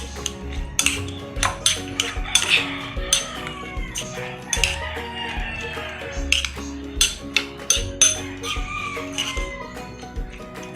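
Eggs are beaten in a bowl for banana peel omelette, a quick irregular series of clinking taps of utensil against the bowl, close and clear, with brief pauses between bursts.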